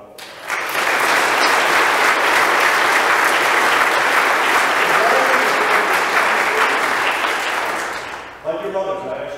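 Sustained applause from a church congregation honoring scholarship recipients at a St. Michael's Holy Mass, a dense, even wash of clapping lasting about eight seconds before fading into a quieter room.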